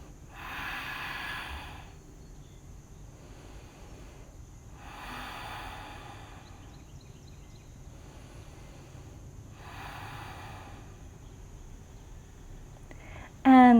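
During a seated yoga stretch, three slow, deep breaths come through the nose as long, soft airy rushes, each followed by a quiet pause, close and steady.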